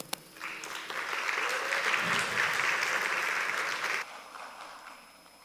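A conference audience at a Python developer event applauds: dense, steady clapping swells after a sharp opening clap, holds for several seconds, then abruptly thins into a few scattered claps and room noise.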